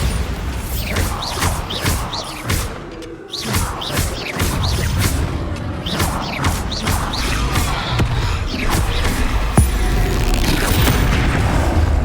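Repeated booming spell explosions from Confringo and Bombarda in the Hogwarts Legacy PC game, a rapid series of loud blasts and crashes layered with whooshes and impacts, continuous and dense throughout.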